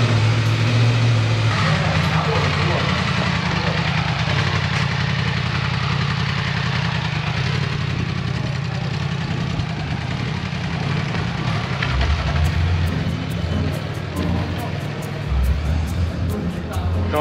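A motorcycle engine idles and runs at a steady mid-pitched rumble throughout, fairly loud and close, with faint background noise and no clear talking.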